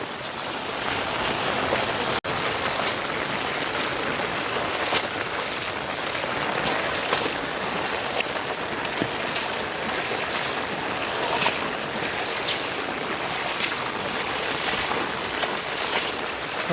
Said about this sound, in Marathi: बघा पाणी किती फास्टमध्ये जाऊन राहिला